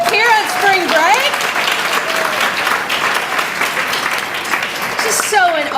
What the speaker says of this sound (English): ask you to join me in one more round of applause for the faculty in the room here on spring break